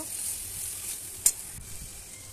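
Spice paste and chopped onion with salt and turmeric fry in a pan for a fish curry, giving a soft, steady sizzle broken by one sharp utensil knock.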